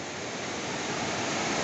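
Strong current of a mountain river in Serra Azul, Palmares, Pernambuco, rushing as a loud, steady broadband roar that runs without a break and carries no voices.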